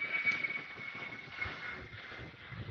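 An airplane passes overhead as a faint, steady droning hum with a thin high whine, heard from a distance and never rising much in loudness.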